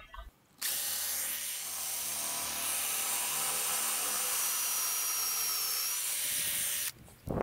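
A close, loud drill grinds continuously into a hardwood board for about six seconds, a steady harsh whir with no talk, cutting off abruptly at the end.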